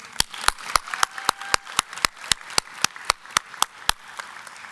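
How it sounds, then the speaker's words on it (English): Sharp, evenly spaced claps ring out in a steady rhythm at a doctoral commencement ceremony, each one crisp and distinct with little blur between them. "One more round of applause."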